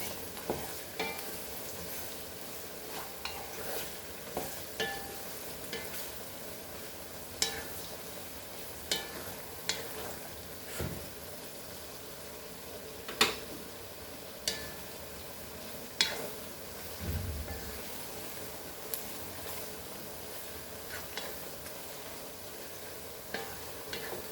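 Brinjal pieces and garlic frying in oil for a Goan sweet pickle, a soft continuous sizzle punctuated by regular sharp clicks and scrapes of a spoon stirring the pan.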